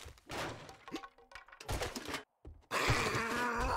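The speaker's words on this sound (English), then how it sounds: "He's busting on the door." A zombie batters at a door in the video game 7 Days to Die, giving repeated heavy thuds and cracking impacts mixed with groaning, close and loud, with a brief silent gap before a dense burst of noise.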